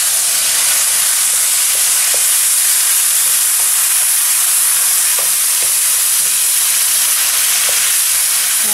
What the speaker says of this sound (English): After 5 minutes, I add the dry white wine.